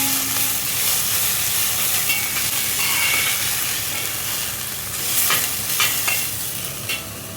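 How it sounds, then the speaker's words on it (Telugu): Ingredients fry in a pan until golden brown, a loud continuous sizzle and hiss close by, with occasional scraping and stirring clicks as the food is moved around, no voices present. "ఇవి కొంచెం గోల్డెన్ బ్రౌనిష్ వచ్చేంత వరకు ఫ్రై చేసుకుందాం."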